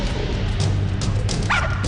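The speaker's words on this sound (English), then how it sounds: "So we recruited this trained attack dog, Tosco." A trained attack dog barks and yips in short repeated bursts over a loud, low background rumble, with one sharper whining yelp near the end.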